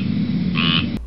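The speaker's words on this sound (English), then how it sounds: "Squirrel tree frogs get their name from their call," A squirrel tree frog in pine flatwoods at Hillsboro Pineland in Broward County gives a loud, close, raspy croaking call, one short burst over a steady background chorus.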